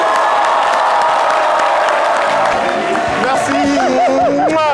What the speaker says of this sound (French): On va l'ovationner.